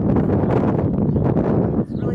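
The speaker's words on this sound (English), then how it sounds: "It's really starting to get windy out here" Strong wind buffets the microphone outdoors on a hillside property behind a house, a dense continuous low rumble with gusty surges and a brief lull near the end.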